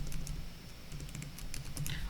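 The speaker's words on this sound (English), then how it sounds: "what we're gonna do is start out by typing some text" Quick, light keystrokes tap on a computer keyboard as text is typed, a close, soft, irregular patter with no voices.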